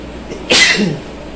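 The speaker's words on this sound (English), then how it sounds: "I keep sneezing, y'all." A single sharp sneeze, loud and close, a quick breathy burst followed by a softer trailing exhale, with no talking around it.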